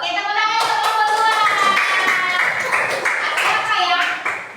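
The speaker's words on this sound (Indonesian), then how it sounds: "Oke, tepuk tangan untuk robot 2." Primary-school children in a classroom clapping together in rhythmic applause for 'robot 2', a loud, dense burst of many small hands mixed with bright chanting voices throughout.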